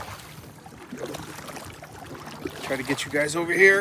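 A boat is paddled on a lake about 42 feet deep at its deepest. Soft splashes and water swirls come under a man's speech and grow louder and closer toward the end.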